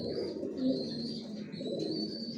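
Pigeons coo softly and continuously inside a pigeon loft, a low murmuring chorus of several birds with no talk.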